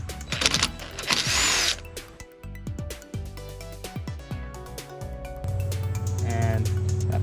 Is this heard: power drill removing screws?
yes